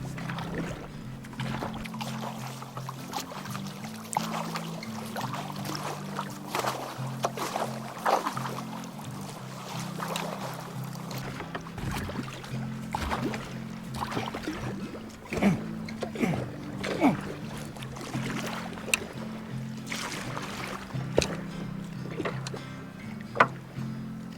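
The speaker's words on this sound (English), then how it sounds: "The water's pretty shallow for this boat. Dragging bottom a lot." Scraping and knocking of a boat hull dragging over a shallow bottom, with scattered thumps and gentle water sounds close by.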